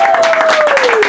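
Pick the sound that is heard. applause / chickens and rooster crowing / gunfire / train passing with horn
applause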